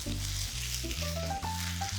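Udon noodles sizzle and crackle in a hot pan, a close, steady frying hiss with a few soft clinks of stirring.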